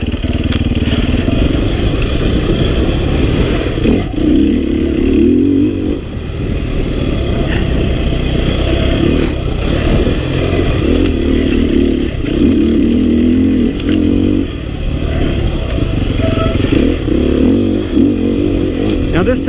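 A dirt bike engine pulls hard in second gear on a trail ride, its loud, close drone rising and falling with throttle in sustained surges, while a rider talks over it throughout.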